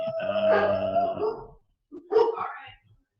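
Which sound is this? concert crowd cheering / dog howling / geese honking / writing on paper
dog howling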